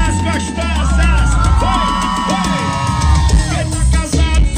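Crowd at a show during Expocavil 2022 in Bom Jesus de Itabapoana, Brazil, screaming and cheering loudly throughout, with yells and whoops over a thumping music backdrop.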